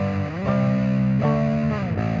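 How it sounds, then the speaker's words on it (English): A Boss Katana bass combo amp with distortion plays sustained, gritty notes that shift pitch a few times, loud and steady with no talking. "let's just do mostly distortion"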